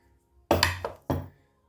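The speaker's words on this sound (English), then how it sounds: "So this is my grandmother's meat grinder, spice grinder, coffee grinder." An old LF&C meat grinder from New Britain, Connecticut is handled, giving a few short metallic clanks and thunks, close and brief, with three separate knocks in under a second.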